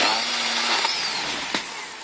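A small handheld mini chainsaw cuts into a tree trunk that is rather thick for it, at an Ecuador ecovillage. A steady, close, whining motor drone holds throughout, with a brief higher rasp near the end as the chain bites into the wood.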